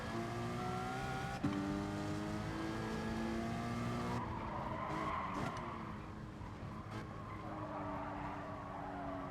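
Race car tyres squeal and skid as the car slides off track in GT Sport during a Porsche Cayman Cup race, a long loud screech over engine drone that fades into rumbling gravel noise.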